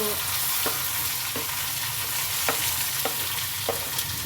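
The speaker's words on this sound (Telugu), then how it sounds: "అండ్ మిర్చి వేసి ఫ్రై చేయాలి" Onions and green chillies fry in oil, a loud steady sizzle close by, punctuated by light regular clicks of a spatula stirring the pan.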